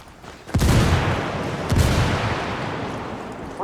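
Frag grenade explosion in the video game Ghost Recon Wildlands, a loud booming blast followed by a second burst and a long rumbling decay, heard alone.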